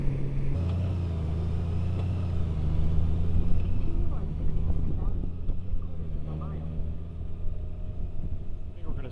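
A Honda Goldwing motorcycle rides along a road just off the interstate, its engine a steady low drone mixed with rushing wind noise, close and continuous, with a brief rise in pitch partway through.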